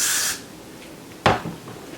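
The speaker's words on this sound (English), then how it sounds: "spray a little behind there" Hair spray is misted onto a frontal wig in a short hissing burst, followed by a soft rubbing or handling sound a moment later.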